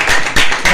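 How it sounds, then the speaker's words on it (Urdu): A live audience claps loudly at a gathering, broad bursts of applause swelling in three waves over a short stretch with no voices. "زور تالیاں لگا کے"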